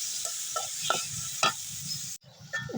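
A farm egg and potatoes frying in a pan, a steady close sizzle punctuated by several sharp stirring and spatula clinks, then a brief cut before the sizzling resumes.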